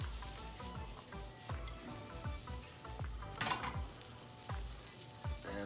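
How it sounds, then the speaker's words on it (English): Onions and bell peppers sauté in a pan for a quesadilla, giving a steady close sizzle with repeated scraping and stirring strokes and light clinks of utensil on pan, with no talking. "So we're gonna saute that for just a couple minutes until kind of the onions start to become just translucent."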